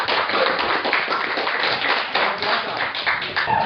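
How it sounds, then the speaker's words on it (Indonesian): A classroom of students at a junior high school in Karubaga applauds a class presentation, with dense, steady clapping that fills the whole stretch without a break. "Tepuk tangan untuk presentasi."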